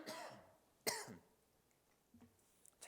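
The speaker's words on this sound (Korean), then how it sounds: "제가 기침을 더 하게 됐어요" A man coughs once, sharply, in a quiet church service, then clears his throat a few times more faintly.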